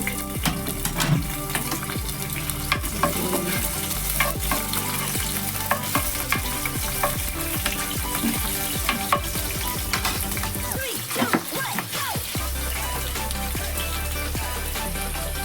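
Green chillies and crushed garlic frying in hot oil for an okra fry, with loud continuous crackling and spitting and brief dips in the sizzle throughout.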